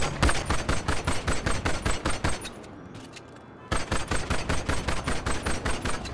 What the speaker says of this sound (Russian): Керамический пистолет без глушителя на такой же дистанции стреляет менее кучно.